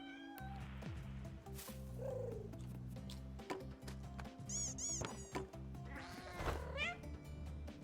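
Cat meowing and purring in the video game Find Matt's Cats, with several rising meows and a caterwaul over a steady looping game music bed and a continuous purr.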